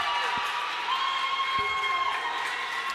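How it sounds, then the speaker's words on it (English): A spirited, less-than-capacity crowd at a Model vs Brantley County boys basketball playoff game in Georgia keeps up a steady roar of cheering and shouting, filling the gym at a fairly even, moderate level throughout. "Spirited crowd here tonight. Not a capacity crowd, but pretty good crowd, and they're into it."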